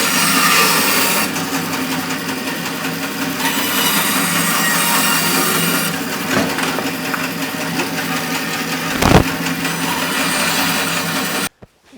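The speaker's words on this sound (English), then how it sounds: "So, to the bandsaw." A bandsaw cuts through wood for a bowl blank, a continuous loud mechanical drone and whine holding steady, with a sharp knock near the end before it stops abruptly.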